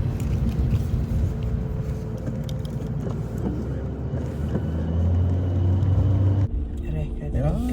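A car drives in stop-and-go traffic on the road to Cavite, its engine rumbling low and steady with passing vehicle noise while people talk throughout.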